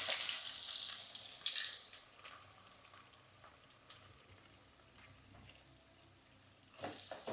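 Onions frying in oil for a traditional tempered wheat dosa, a soft steady sizzle that is loudest at the start and fades to a quieter hiss, with a few small clinks and stirring scrapes near the end.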